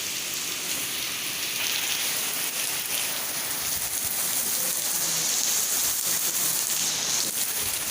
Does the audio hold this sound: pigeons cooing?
no